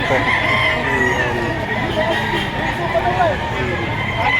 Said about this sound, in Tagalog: Ayan mga manok